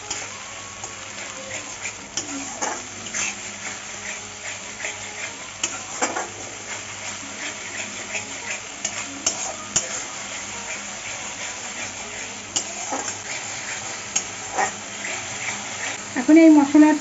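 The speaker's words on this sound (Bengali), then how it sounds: "এখন আদা, লঙ্কা আর রসুন বাটাটা দিয়ে দিচ্ছি। ভালো করে কষিয়ে নেব।" Ginger, chili and garlic paste frying with onion in a pan for a fish curry, a soft continuous sizzle with occasional stirring scrapes, heard under a person talking.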